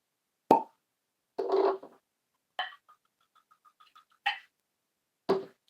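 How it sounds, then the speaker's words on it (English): A bottle of hop-flavored whiskey from Charbay Distillery is opened, giving several short, close plopping pops separated by silence, with a faint run of tiny clicks in between. "this is the hop flavored whiskey here, so this is what we're going to be cracking"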